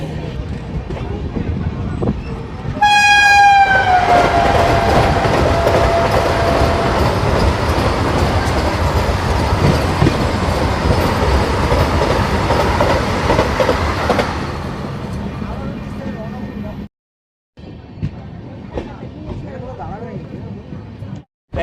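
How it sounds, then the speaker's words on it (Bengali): Vande Bharat Express 22302 New Jalpaiguri–Howrah passes a station with a loud sustained rumble and rhythmic rail clatter, preceded by a sharp rising horn blast, then fades to quieter background noise near the end. "এখনই আমাদের সাথে দেখা হয়ে যাবে 22302 নিউ জলপাইগুড়ি হাওড়া বন্দে ভারত এক্সপ্রেস"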